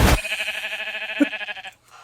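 Sheep bleating in the Minecraft movie trailer: a single drawn-out, wavering bleat lasting over a second, loud and close against a quiet background, with a short low bump partway through.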